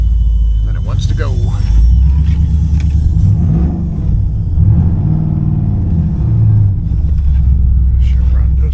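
A 2004 Pontiac GTO with the 5.7L LS1 V8 idles with a loud, steady low rumble that swells briefly as it revs, heard up close while voices murmur faintly in the background.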